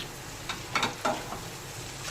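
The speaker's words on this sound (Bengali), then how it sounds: "আমি এরকম একটা কাঁটা চামচ নেব আর এই খুন্তি দিয়ে এইভাবে ধরে ধরে মিশিয়ে নেব সব ভালো করে" Egg prawn chowmein is tossed with a fork and spatula in a pan with tomato ketchup, soy sauce and red chilli sauce, giving soft intermittent scraping and mixing clatters over a quiet, faint sizzle.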